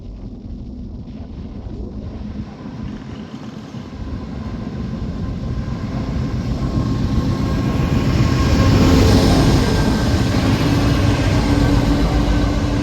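An Indian Pacific train hauled by Pacific National locomotives passes at Broadmeadow, Newcastle, its loud, steady rumble building as it nears and holding as the wagons roll by, with some wind buffeting.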